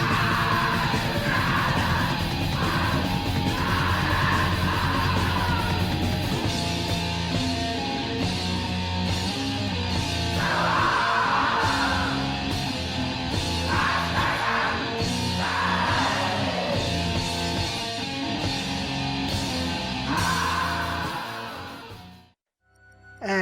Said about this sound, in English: In much of black and death metal, however, the singer sounds like this.